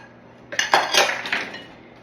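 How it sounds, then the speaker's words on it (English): A utensil scrapes and clinks against a bowl while eggs are stirred into cake batter for a Texas tornado cake, a quick run of close, light metallic taps and scrapes lasting about a second and a half. "And I'm just going to stir this right up."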